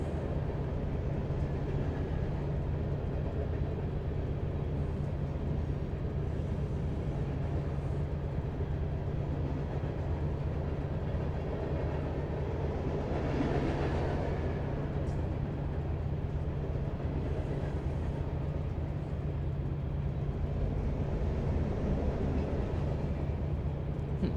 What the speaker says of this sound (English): Big blue boxcar.